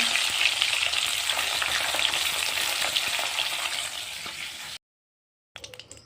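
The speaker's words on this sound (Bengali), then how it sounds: "মাছ ভাজা হচ্ছে।" Rohu fish frying in oil in a kadai, a steady loud crackling sizzle for several seconds that cuts off abruptly, then brief faint crackles return after a short silence.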